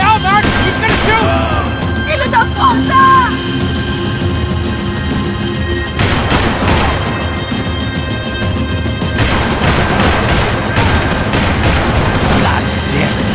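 Gunfire from the video game Max Payne 3 during a chase mission, loud sustained bursts of shots and impacts layered over game music and voices throughout.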